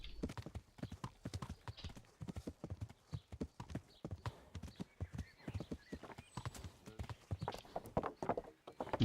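Horse hooves clip-clop steadily while riding in Kingdom Come: Deliverance, a dense rhythmic run of close hoofbeats throughout, with a brief whinny-like tone and no talking.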